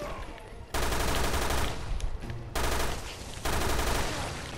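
Sustained automatic gunfire rattles in three long loud bursts with brief gaps between them, from a Resident Evil Revelations 2 Raid Mode mission.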